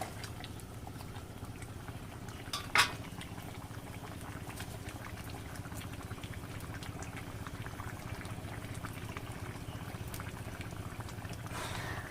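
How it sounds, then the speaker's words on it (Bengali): Fish curry broth boils steadily in a pot, a continuous low bubbling with one brief sharp knock partway through, no talking. "হ্যাঁ, ঝোলটা ফুটে উঠেছে"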